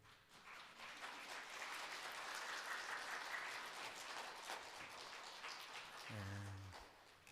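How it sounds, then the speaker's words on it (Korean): A church congregation applauds during a Sunday worship service. The clapping is fairly faint and distant and holds steady for about six seconds, then trails off as a low voice comes in near the end. "큰 박수로"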